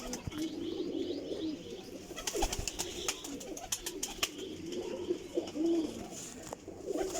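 Flying pigeons coo softly among scattered chirps and wing flutters, a faint, busy bird ambience with sharp clicks and no clear voices.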